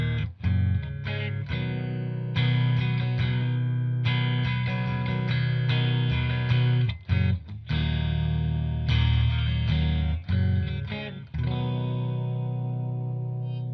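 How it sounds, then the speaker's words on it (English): Clean electric guitar from a Cort M600 played in stereo through a Fender Deluxe Reverb and an Orange Terror Stamp driving two Celestion Vintage 30 speakers, strummed chords ringing loud and close with brief stops between phrases. "Here's my clean sound. I'm playing my Cort M600 and I'm going stereo into my Fender Deluxe Reverb and the orange Terra Stamp."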